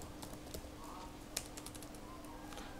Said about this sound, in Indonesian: kemudian di sini kita ketikkan aja penyimpanan.